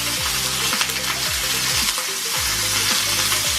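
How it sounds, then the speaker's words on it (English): Stuffed eye of round beef searing in a hot pan, a loud steady sizzle and crackle, close and continuous with light stirring noises, and no one talking over it. "We're just gonna kind of like brown the outside of it"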